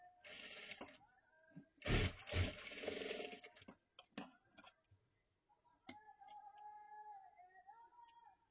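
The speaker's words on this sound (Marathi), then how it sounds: "आता ह्याच्यावरती हे अशा पद्धतीने थोडं थोडं ठेवून एकदम कडेकडेला आपल्याला शिलाई मारून घ्यायची आहे" A sewing machine stitches along the edge of a puff sleeve in short bursts, with pauses between runs and a steady whirring pass near the end, close and moderately loud.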